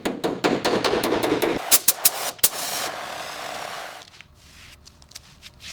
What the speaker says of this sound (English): We're using the dollies and hammers here to get the contours just right before the final paint.